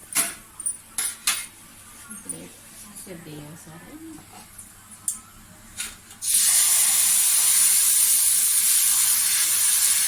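Sorghum dosa batter hits a hot pan and bursts into a loud, steady hiss that runs for several seconds. Scattered clicks and clatter and a briefly talking voice come before it.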